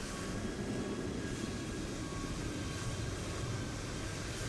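A steady, broadband jet roar with faint tonal whine from an American airliner arriving at Los Angeles airport in Microsoft Flight Simulator, continuous and fairly loud throughout without voices.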